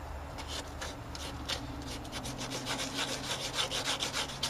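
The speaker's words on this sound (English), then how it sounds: "I gotta sand this area. Bondo was pretty hard, so uh, I probably, probably waited a little too long to sand it." Hand sanding of hardened Bondo body filler on a car body panel: a continuous, fairly close abrasive rubbing made of quick repeated back-and-forth strokes, with no voice over it.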